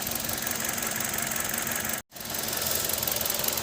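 A Kia Rio engine idles close by with a rough, knocking shudder and misfire, its steady churning running unbroken except for a sharp dropout about halfway through.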